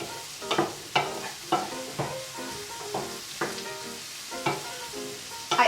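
Onions frying in a pan for a creamy Indian-style pasta, stirred with a utensil that knocks and scrapes the pan in a loose rhythm of about ten strokes over a steady close sizzle, with no voices.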